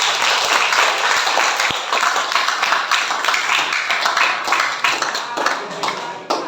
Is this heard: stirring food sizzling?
no